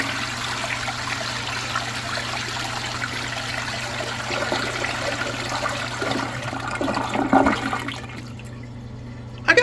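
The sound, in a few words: American Standard Cadet II toilet flushing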